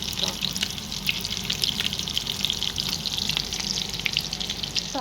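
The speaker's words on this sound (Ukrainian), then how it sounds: "Котлетки смажаться" Steady sizzling and crackling of cutlets frying in a hot pan, continuous and fairly loud throughout, with no talking.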